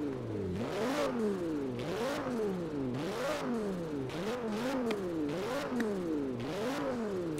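An Audi RS6 with a twin-turbo V10 swap revs repeatedly in Forza Horizon 4, the engine note climbing and dropping in quick sawtooth sweeps, loud and close throughout.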